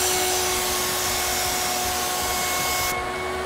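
A paint sprayer hisses and whines in one continuous, loud, steady blast while a coat goes on, with a constant tonal hum underneath that eases slightly near the end.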